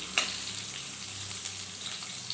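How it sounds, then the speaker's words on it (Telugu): Chopped onion frying in a spoonful of hot oil in a pan, giving a steady, soft sizzle with a few faint clinks of stirring, quiet and close, with no talking. "ఒక ఆనియన్ ముక్కలుగా కట్ చేసుకున్న ఆనియన్ని వేసి ఫ్రై చేసుకోవాలండి"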